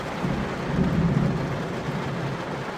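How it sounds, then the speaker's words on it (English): Steady rain and a low rumble of thunder during a severe lightning storm beside a highway, a continuous dense wash of sound with a swelling roll, no voices. "Stuck in a pretty bad lightning storm."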